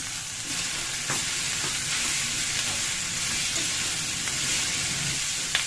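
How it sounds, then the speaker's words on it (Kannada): Capsicum frying in a pan with ginger-garlic paste, a steady close sizzle running throughout, with occasional light stirring taps. "ಚೆನ್ನಾಗಿ ಫ್ರೈ ಮಾಡ್ಕೊಂಡ್ಬಿಡಿ"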